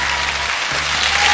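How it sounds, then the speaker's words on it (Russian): Studio audience applause in the Pole Chudes (Field of Miracles) game show video game, a steady dense clapping that fills the whole moment loudly and evenly, swelling slightly toward the end. "Эти аплодисменты вам."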